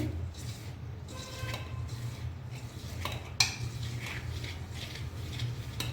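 Salt is stirred into rice flour mixed with mashed potato for chakralu, a soft, steady scraping and rustling in a bowl with a single sharp clink of utensil against the dish, fairly faint.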